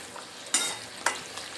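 Silver carp fish curry simmers in a pot as it is stirred, a soft bubbling bed broken by two or three short scraping strokes.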